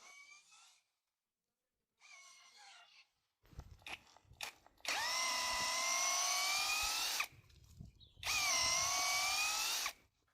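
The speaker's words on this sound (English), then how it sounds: "I bothered you a bit with the drill." A power drill bores into a birch tree trunk outdoors to tap its sap, in two sustained whining bursts of several seconds each, loud and close, after quieter rustling and handling noises.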